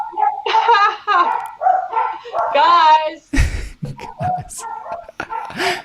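Dogs bark and whine in a series of high-pitched, wavering cries and yips; a person speaks briefly between them.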